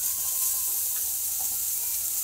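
Spices roasting in a pan for chana masala give a steady, soft sizzle that holds evenly throughout, with no talk over it.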